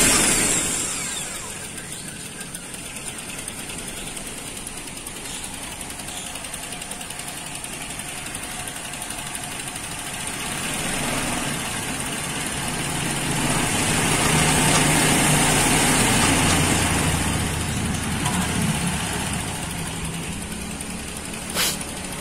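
Car engine cranking and settling into a steady idle after a spark plug replacement, a close, moderately loud mechanical hum with a faint ticking that swells slightly midway, with no voices.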